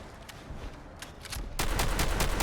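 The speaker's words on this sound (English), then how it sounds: "Next up, full auto. Spam those shotgun shells." Full-auto handmade shotgun fire in Fallout 4, a few scattered shots that break into a loud, continuous stream of rapid blasts, close and dense with no talking.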